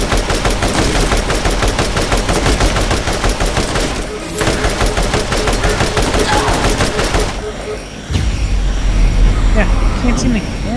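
Rapid automatic gunfire rattles through a Borderlands video game firefight against jetpack assassins, loud and sustained with brief pauses and a final burst, while a player's voice is heard over the shooting.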